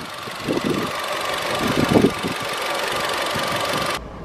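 A 2020 Lada Vesta's 1.6 H4M cast-iron-block engine idles with a steady, slightly knocking rumble up close, a few heavier thuds early on, then cuts off abruptly.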